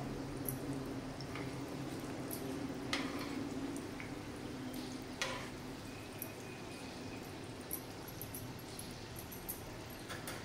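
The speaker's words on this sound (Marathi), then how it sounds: "आणि ह्याला चांगला असा सोनेरी कलर, गोल्डन ब्राऊन कलर येईपर्यंत आपल्याला ह्याला फ्राय करायचं आहे" Samosas deep-frying in hot oil, a steady low bubbling sizzle with scattered soft pops and crackles, quiet and continuous with occasional sharper spits standing out.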